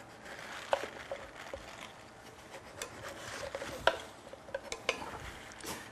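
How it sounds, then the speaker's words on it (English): A knife cuts the ends off a grapefruit on a cutting board, with faint scraping and rubbing and a few sharp taps of the blade against the board, heard up close and alone. "In sectioning off grapefruits, what we want to do is cut off the ends."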